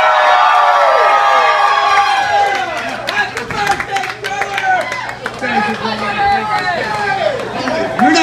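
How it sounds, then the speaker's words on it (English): A bar crowd at a 21st birthday party cheers and whoops loudly, many voices shouting together close by, with chatter and scattered clapping running through. "Come on, you guys, give him a cheer."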